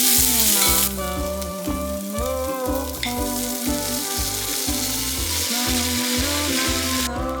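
Minced garlic stir-frying in a spoonful of perilla oil for dried pollack soup gives a steady, close sizzle that holds for several seconds over a continuous rhythmic low thumping, with no talking.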